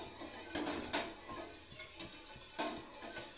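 A spoon scrapes and clinks against a pot as boiling arrowroot coffee is stirred, soft uneven knocks at a quiet level with a faint bubbling sizzle underneath.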